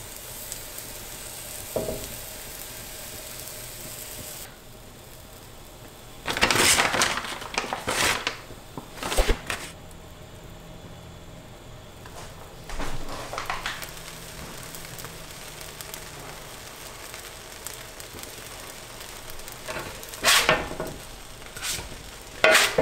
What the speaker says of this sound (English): I hope you enjoy the sound of these sizzling pancakes.